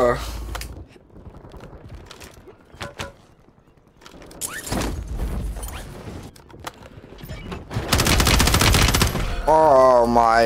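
Gunfire in Call of Duty on Rebirth Island comes in scattered single cracks and then a long dense burst of rapid shots, with a player's voice talking between them.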